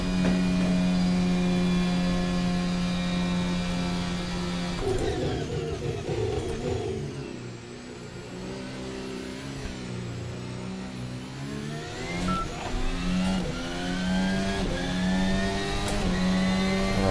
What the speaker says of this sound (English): Just love the sound of the overrun when you're just off the throttle.